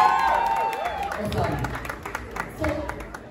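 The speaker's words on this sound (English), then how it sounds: "please, round of applause for this young man for the job he's done today" An audience at a school prefects ceremony applauds a young man. A voice opens the moment, then dense, steady clapping builds and keeps going, with some shouts mixed in.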